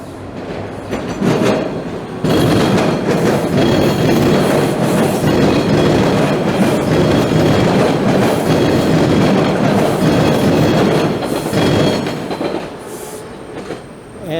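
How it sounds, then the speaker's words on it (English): An open-air subway train rolls past close by on elevated tracks, with a loud, steady roar of wheels and rhythmic clickety-clack that swells in for several seconds, holds, then fades as the cars move on. "we're going to catch a train rolling by"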